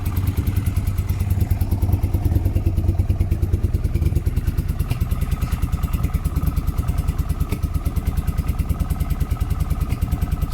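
A 1980 Honda CX500 motorcycle engine idles steadily close by, a loud, even rapid pulse of exhaust beats with a rough mechanical clatter running without break.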